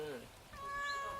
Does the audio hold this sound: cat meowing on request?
yes